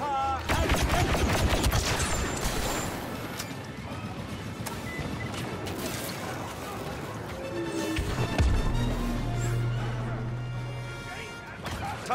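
Dense, continuous automatic fire and crashing impacts in a chaotic video game firefight, loud and sustained, with voices talking over the din.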